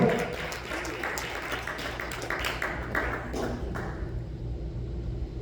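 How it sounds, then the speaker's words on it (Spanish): Congregation applauding inside a church service, a steady dense wash of clapping that runs for several seconds and then thins out toward the end, with faint voices underneath. "Denle un aplauso al Señor en esta hora"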